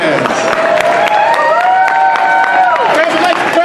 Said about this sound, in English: keep your applause going, because here comes your